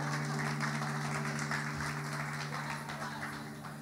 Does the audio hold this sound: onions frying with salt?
no